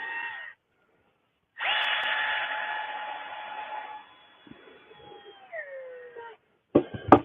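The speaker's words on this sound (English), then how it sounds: "let's put a drill hole right here" A power drill whines steadily for several seconds, its pitch sagging as the bit bites into plywood and cedar, then winds down; short bursts of motor noise come before and after.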